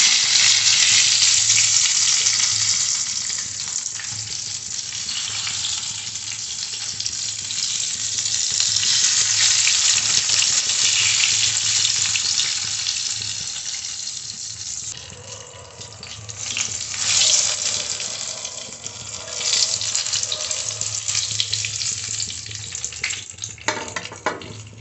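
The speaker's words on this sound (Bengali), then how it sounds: "এবার আমি বাকি বেগুন কটাও ভেজে নিচ্ছি।" Eggplant slices fry in hot oil with a loud, continuous close sizzle that swells and eases, and brief clinks and stirring sounds break in now and then.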